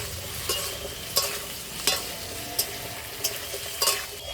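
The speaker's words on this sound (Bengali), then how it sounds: "আলুগুলো এবার লাল লাল করে ভেজে নেবো" Potatoes sizzle steadily in hot oil, broken by several scraping stirs at irregular intervals.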